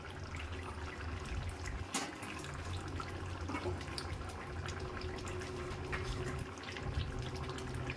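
Water poured into a simmering egg and pointed gourd curry in a pan, a steady soft trickle over low kitchen rumble, with no voices.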